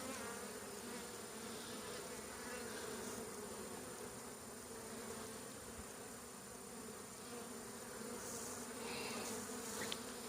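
Dense, continuous buzzing of many honeybees inside a hive during a colony check, close and steady, with a low hum underneath and no voices.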